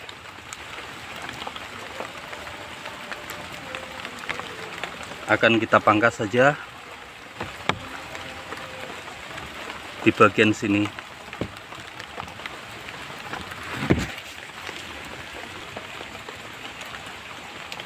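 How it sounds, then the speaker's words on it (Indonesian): Steady rain falls outdoors over a mango tree being pruned after grafting, a soft constant patter with a few louder bursts of drops, while someone talks over it. "Karena saat ini cuaca hujan"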